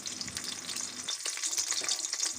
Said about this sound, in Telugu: నూనె వేడెక్కిన తర్వాత ఉల్లిగడ్డ, పచ్చిమిర్చి వేసి దోరగా వేయించాలి